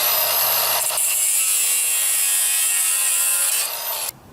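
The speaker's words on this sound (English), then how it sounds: "Now to use this thing, to use this grinder, my suggestion, use goggles." An angle grinder cutting at a Honda CR-V alternator during a repair, a loud steady high-pitched whine that runs on for about four seconds before cutting off abruptly.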